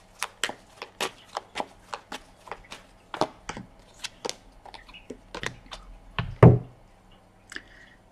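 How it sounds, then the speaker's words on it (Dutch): Tarot cards are shuffled in a series of sharp, crisp taps and riffles at an uneven rhythm, close and clear, with one louder thump partway through. "We gaan de kaarten schudden om te kijken wat week 36 voor de Leeuw gaat brengen."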